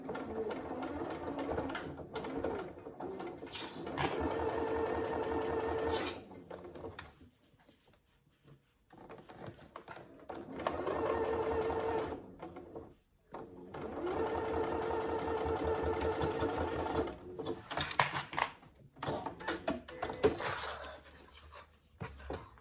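Sewing machine stitching the pleated front pocket of a saddle bag, running in three long, fast bursts with brief pauses between them for turning the fabric, close and clear.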